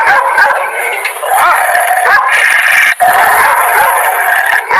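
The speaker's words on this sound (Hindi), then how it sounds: "टॉमी उन पर भौंकने लगता है।" A dog barks and yips repeatedly at close range, loud and excited, with short whimpering notes between barks and no one speaking.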